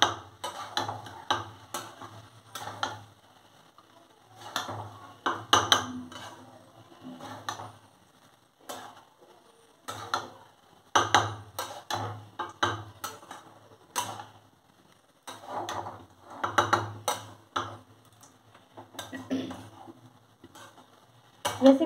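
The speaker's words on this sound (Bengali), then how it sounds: "মশলার সঙ্গে এগুলো ভালো করে মিশিয়ে নিতে হবে" Cooked rice being stirred and mixed with spices in a pan for lemon rice, a steady run of scraping, clattering spoon strokes in repeated bursts with no talking.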